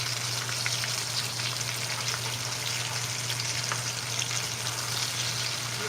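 Onions sizzle steadily in a hot pan, a dense, even crackle that stays close and constant throughout with a low hum beneath and no speech.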